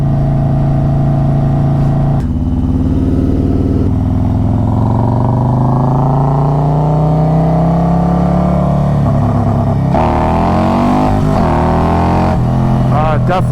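Harley Road Glide with Stage 2 tuning and a Khrome Werks Outlaw exhaust accelerating hard in first gear, a loud deep rumble rising through the revs, with shifts and a renewed pull near the end.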